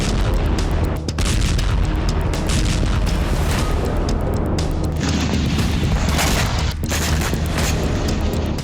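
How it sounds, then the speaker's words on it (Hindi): Loud, continuous roar of heavy explosions from a Russian ballistic missile strike on a tube plant in Dnipro, Ukraine, with booming blasts rolling into one another and brief dips before the din surges back. "रूस की मिसाइल स्ट्राइक से निप्रो में एक दो नहीं बल्कि कई जबरदस्त विस्फोट हुए।"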